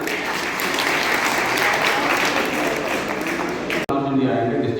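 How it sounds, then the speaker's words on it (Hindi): Loud, dense applause from a crowd at a district-level floriculture department event in Kathua, sustained clapping filling the hall before cutting off abruptly, followed by a voice speaking. "जोरदार तालियां"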